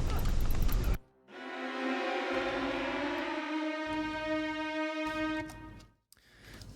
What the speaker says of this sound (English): So that's the string highs kind of effect here in the Albion package.